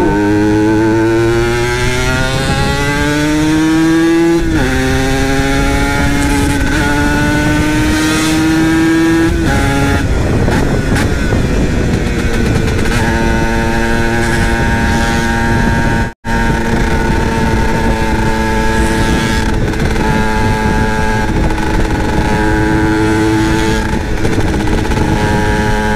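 A Yamaha TZM motorcycle exhaust drones loud and close while riding, its pitch climbing through the gears with audible drops at each shift. The engine note dominates throughout, with a brief cut partway through and no talking over it.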